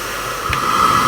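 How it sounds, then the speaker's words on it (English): A hair dryer on its heat setting blows steadily with a constant airy whoosh and hiss, a brief bump partway through, while reconditioning Simms G3 wader boots. "I will now put on the heat on the hair dryer."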